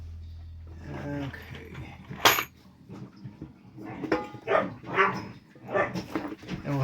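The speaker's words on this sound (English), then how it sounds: "And we'll have some background music of dogs." Several dogs bark and whimper indoors during work on a homemade dog door insert for a sliding door, with short, uneven yaps and barks, some dish clatter, and a low hum in the background.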